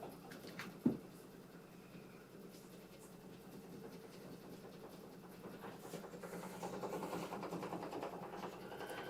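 A Kimberbell embroidery machine stitches a decorative design onto a flower, giving a steady mechanical whir with a rapid rhythmic clatter that grows slightly louder toward the end, after one sharp knock near the start.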